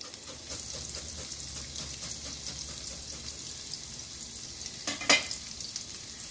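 Julienned ginger dropped into a hot pan for a seafood chowder sizzles steadily and close, with a sharp, brief spatter burst near the end.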